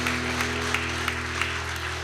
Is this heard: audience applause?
yes